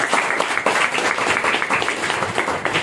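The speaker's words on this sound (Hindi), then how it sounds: "एक बार जबरदस्त तालियां" Audience applause for a company's CMD and MD, a dense steady patter of many hands clapping at moderate volume, continuous throughout with no voices standing out.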